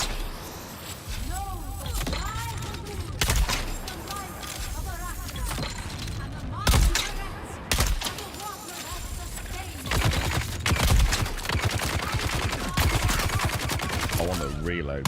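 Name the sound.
gunshots from the video game Dune: Awakening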